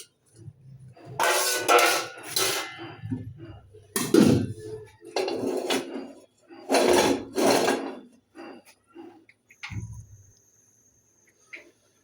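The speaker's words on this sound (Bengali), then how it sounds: "কড়াইটা বসায় দিই" A wok is set on a home stove, making metallic clanks and scrapes among bursts of nearby talk, ending with a dull knock and a quiet stretch.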